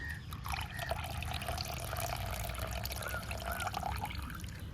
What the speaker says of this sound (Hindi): अब इसको रगड़ रगड़ कर आप 4 से 5 बार अच्छे से धो लीजिए।